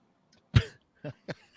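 Three short coughs, one sharp and heavier, then two lighter ones spaced apart, close by with silence between.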